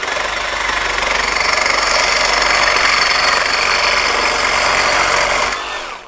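A FLEX FX2241 24V brushless one-handed reciprocating saw cutting aluminum with a waxed blade, a loud, dense, steady buzzing rasp that runs continuously and then winds down at the end, close up with no talking.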